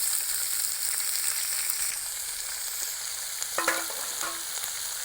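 Country chicken curry ingredients sauté in a pan over a wood-fired stove, giving a steady, close sizzle with a few brief stirring scrapes near the end and no talk.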